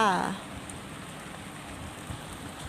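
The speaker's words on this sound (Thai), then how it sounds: "ตอนนี้ฝนก็ตกพรำพรำอยู่" Light rain patters steadily and softly at a reservoir fishing spot, a faint even hiss after a short tonal sound at the very start.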